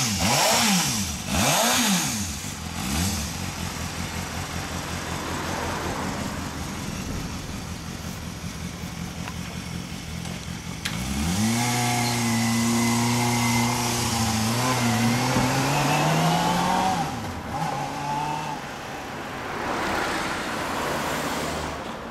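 A Yamaha Zeal 250 motorcycle with an OVER Racing aftermarket exhaust revs loudly up close, rising and falling through several throttle blips and sustained high-revving pulls.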